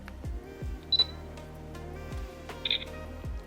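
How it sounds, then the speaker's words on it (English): A Paper Shoot paper-bodied digital camera fires its shutter, giving small, quiet mechanical clicks against a steady low hum, with two brief higher-pitched electronic chirps between them. "once you hear that little shutter noise that they make, it's all set and you just took an image."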